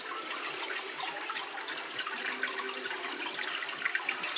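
Water runs steadily down a three-step tiered aquarium into the large lower tank, a continuous close splashing trickle with no voices.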